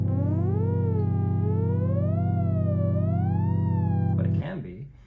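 A Hydrasynth synthesizer's ribbon controller plays its own voice: a loud, sustained buzzy tone with rich harmonics whose pitch glides up and wavers slowly for about four seconds, then cuts off into a brief noisy tail.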